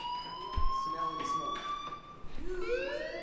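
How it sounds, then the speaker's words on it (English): A steady, high electronic fire alarm tone rings through a school building in Life is Strange, continuous and fairly loud while a person talks over it. "do you hear that fire alarm?"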